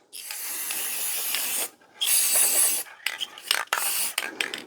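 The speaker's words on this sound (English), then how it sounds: "I'm going to spray these screws down with some clear matte enamel" Several hissing bursts of clear matte enamel spray paint onto screws, the first long and steady, then a gap followed by shorter, choppier sprays with brief pauses between them.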